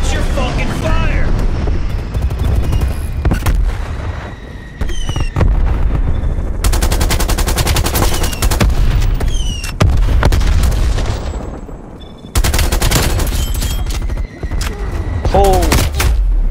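Heavy automatic gunfire from a Black Ops Cold War multiplayer match rattles in loud, dense bursts with booming impacts, running almost nonstop through the clip with short gaps between volleys.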